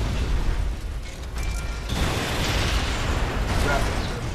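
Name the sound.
rocket launcher explosion in video game Red Faction: Guerrilla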